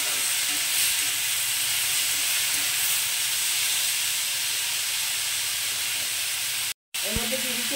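Potatoes frying in a pan make a steady, close hiss of sizzling oil that holds evenly for several seconds, briefly cutting out near the end before a faint clink.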